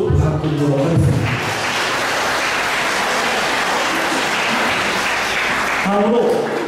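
Wedding guests applaud after the couple are declared married, a long sustained round of clapping bracketed by the officiant speaking at the start and end.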